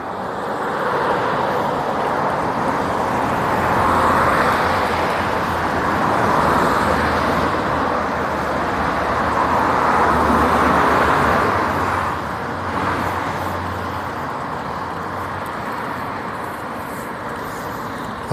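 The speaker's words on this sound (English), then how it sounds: "How much can you hear the cars?" Steady road traffic with cars passing continuously, a broad rushing roar that swells and fades as vehicles go by, moderately loud and uninterrupted, with no voices over it.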